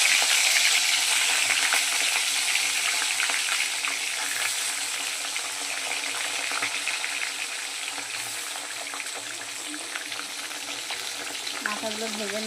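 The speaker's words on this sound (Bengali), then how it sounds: "মাথাগুলো ভেজে নেব" Rohu fish heads frying in hot oil give a steady, fairly loud hiss and crackle throughout, easing slightly over time, with a faint voice-like trace near the end.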